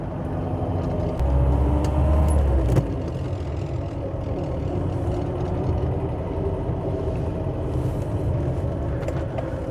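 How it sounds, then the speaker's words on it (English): A classic Mercedes-Benz "Stroke Eight" engine runs steadily, heard from inside the car while driving, a low droning hum with a brief louder surge early on, then a constant road rumble. "the engine is so much quieter"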